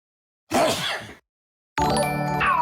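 A single close, loud sneeze, a short burst followed by a pause and then other noise.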